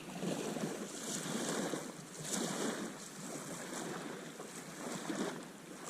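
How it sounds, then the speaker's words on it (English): Gusty wind buffets the microphone on Lake Davis during a spring fishing outing, a loud rushing roar that swells and eases in waves, with water and surf noise beneath and no talk. "Now the wind's coming up again"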